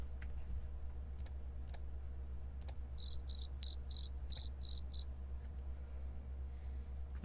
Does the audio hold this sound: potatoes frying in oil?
no